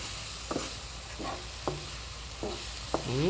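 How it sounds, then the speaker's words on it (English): Aloo baigan, potato and eggplant, being stirred and mixed in a pan with lemon juice, giving five soft scraping strokes at an even pace over a faint steady sizzle, with no talking. "Mix it well."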